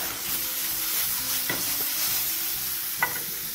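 Strips of lamb browning in a pan for a soy lamb stew, a steady close sizzle with two distinct scrapes and knocks as the meat is tossed, no voices.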